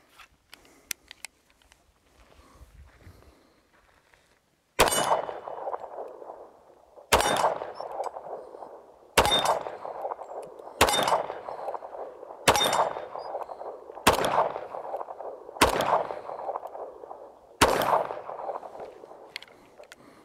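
A Springfield 1911 MC Operator .45 ACP pistol fires eight sharp, loud single shots spaced about two seconds apart, each with a ringing tail. Faint handling noises come first.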